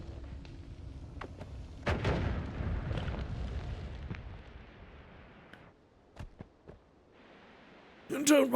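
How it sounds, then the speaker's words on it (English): A bomb goes off in the pixel-physics game Noita: a loud, booming blast near two seconds, a few sharp pops later on, and a final burst at the very end, all over a steady layer of game ambience. "Nice little bomb right here."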